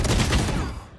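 Gunfire in a first-person shooter video game, a dense, loud, rapid burst of shots lasting about a second, with a fading tail at the end.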